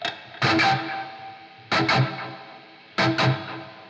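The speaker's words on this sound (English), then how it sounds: "You can probably hear that there is echo in the right hand channel." Three bursts of distorted electric guitar, each chord followed by a trailing echo in the right channel that fades before the next strum, with no talking.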